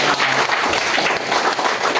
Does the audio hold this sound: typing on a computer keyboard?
no